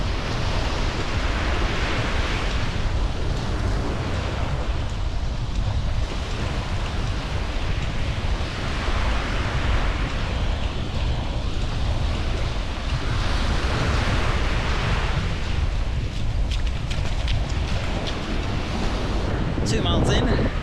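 Headwind buffeting the microphone of a runner on a beach, a constant loud roar of wind noise mixed with surf, steady throughout with some sharper gusty bursts near the end.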